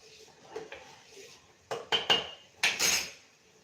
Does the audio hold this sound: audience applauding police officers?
no